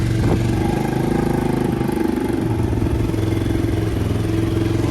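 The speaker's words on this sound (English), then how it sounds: "That idle's a little higher than what I want." Small engine of a kid's motorbike idling slightly high, a steady close putter running throughout with faint clatter.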